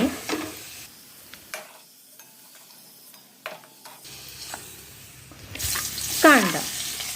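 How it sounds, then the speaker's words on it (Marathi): Onion being sautéed in a pan for a moong dal upma gives off soft, intermittent sizzling with scraping stirs. Quiet gaps fall between them, and a louder burst of frying comes near the end. "कांदाही आपल्याला गुलाबी रंग होईपर्यंत असा मस्तपैकी परतून घ्यायचा आहे"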